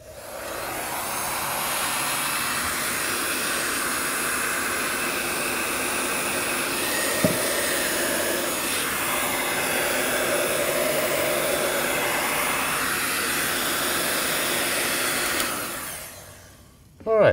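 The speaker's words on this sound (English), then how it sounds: "This will require the use of a heat gun." A heat gun blows steadily while shrinking heat shrink tubing on a Speakon connector, a loud, close, continuous airy roar lasting about fifteen seconds before it cuts off with a short clunk.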